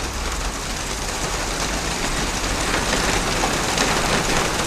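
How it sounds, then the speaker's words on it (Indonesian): Hail pours down at a bus terminal as a dense, loud, unbroken roar of ice striking surfaces, constant throughout without voices. "Baru nyampe terminal disambut hujan es."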